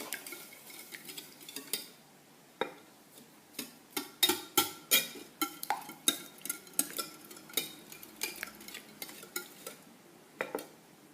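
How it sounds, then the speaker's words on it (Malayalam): A spoon scrapes and clinks against a pan, stirring sugar into a bread snack mixture in a run of close, sharp, irregular strokes with short pauses and no talking. "നന്നായിട്ട് ഇളക്കി കൊടുക്കുക. പഞ്ചസാര എല്ലാം അതിലേക്ക് മിക്സായിട്ട് വരണം."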